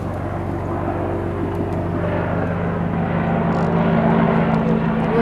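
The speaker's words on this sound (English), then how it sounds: "Apache helicopter coming!" An Apache helicopter passes overhead, a steady droning engine and rotor roar that swells gradually louder over several seconds, heard outdoors with no talking.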